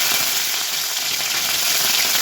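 Green chillies hit hot oil with cumin seeds already toasted in it, giving a steady, close, loud sizzle and hiss that holds evenly throughout with no voices.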